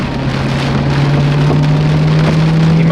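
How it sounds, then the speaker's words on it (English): Heavy storm rain pours steadily onto a moving car, a dense, continuous hiss over a constant low road-and-engine hum, loud and close throughout with no voices. "Like we're going through the storm."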